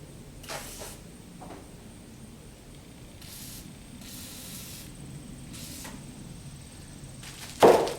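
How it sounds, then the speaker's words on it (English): Several short, soft hissing sprays from a WD-40 aerosol can, used on a 1976 Corvette, come in separate bursts, with a louder clunk at the end. "So I'm just spraying all of these right now."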